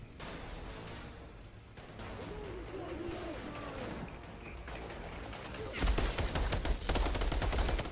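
Gunfire in the video game Outrider: a quieter stretch with a voice speaking gives way to a loud, dense burst of rapid automatic shots near the end.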